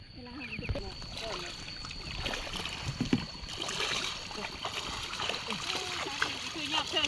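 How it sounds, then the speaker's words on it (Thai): Water runs and splashes in a rice-farming setting, a continuous close trickling and spattering with small sloshes, heard under people talking. "น้ำไหลทอดแทดอย่างนี้เนาะ"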